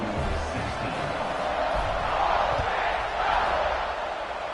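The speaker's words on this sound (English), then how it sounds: "this crowd is buzzing after that last score" A football stadium crowd buzzes after a touchdown, a steady, dense roar of many voices with no single cheer standing out, continuous through the moment at a moderate distance.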